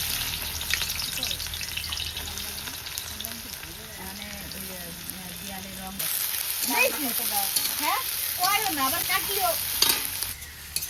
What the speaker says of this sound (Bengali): আর এদিকে আমি ব্রেস্তাটাও করে নেবো বিরিয়ানির জন্য।